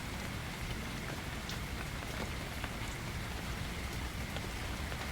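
Steady rain falling in a forest, a dense even patter of drops on leaves and ground that holds a constant moderate level throughout, with no voices or other sounds standing out.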